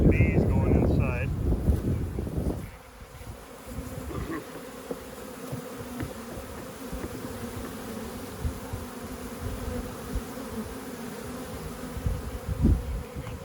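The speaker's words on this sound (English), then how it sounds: "you'll see these bees going inside." Honey bees buzz around a hive box just after a colony split, a steady insect drone with wind noise, following a brief burst of speech at the start.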